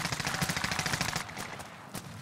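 Gunfire in the Gulag of Call of Duty Warzone: a rapid automatic burst of close, sharp shots for about a second, followed by a few scattered single cracks.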